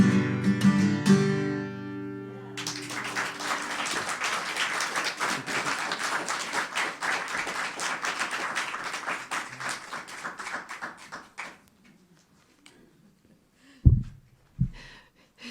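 Audience applause at a poetry open mic night following a sung poem, a dense burst of clapping that swells in after a sustained vocal note, holds steady for several seconds, then thins out to a few scattered final claps.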